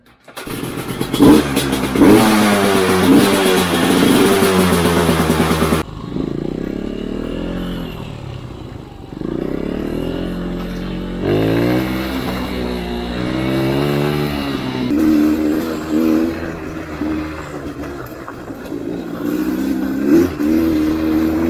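A motorcycle engine revs hard and loud for the first few seconds, then settles into a rougher, uneven idle with occasional throttle blips and clattering mechanical noise, close by with no talk.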